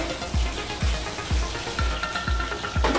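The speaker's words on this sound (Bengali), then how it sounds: "মাছ ভাজা করতে হবে।" Fish frying in a pan gives a steady, fairly loud sizzle, punctuated by regular soft low thumps about every half second, with no talking.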